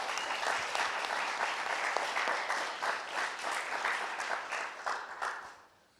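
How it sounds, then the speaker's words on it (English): Steady applause from a conference audience, dense clapping that holds loudly for several seconds before fading out at the end. "So please give them a warm round of applause for what they've been doing."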